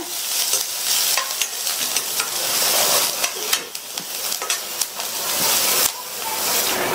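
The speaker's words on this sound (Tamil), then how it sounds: "ஒரு மீடியம் சைஸ் கட் பண்ண வெங்காயத்தை சேர்த்துட்டு இந்த வெங்காயத்தை நல்லா வதக்கி விட்டுக்கங்க" Chopped medium onions sautéing in oil with mustard seeds and curry leaves for a Tamil poriyal side dish, a steady close sizzle and fry broken by scraping stirs of a spoon in the pan, with no talking.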